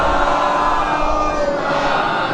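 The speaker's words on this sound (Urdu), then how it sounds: "بلند ترین نعرے صلوات ارشاد فرمائیں" A large crowd of mourners at a Muharram majlis loudly chants salawat together, a dense, sustained roar of many voices filling the hall without a break.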